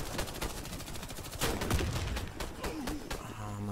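Rapid bursts of gunfire from a USAS automatic shotgun in the video game Warface ring out repeatedly over a dense, busy battle mix, with sharp overlapping shots spread across the moment.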